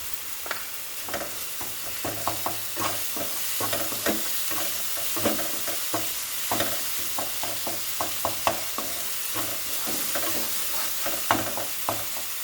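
Chicken pieces frying in a pan for chicken pickle, with a steady hiss of oil and frequent sharp clacks of a spoon stirring and scraping at an irregular pace, no talking.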